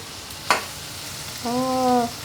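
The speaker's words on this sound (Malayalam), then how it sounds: "ആ ഇളക്കിക്കോ ഇളക്കിക്കോ നല്ലപോലെ ഇളക്കണേ" Ginger, garlic and chilies fry in a pan with a steady soft sizzle, broken by one sharp scrape of stirring; a brief tonal hum or whistle rises near the end, and no one speaks.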